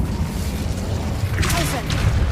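The Incendio fire spell cast in Hogwarts Legacy: a whooshing burst of flame flares up partway through over a low rumbling game soundscape, then fades with a flickering crackle.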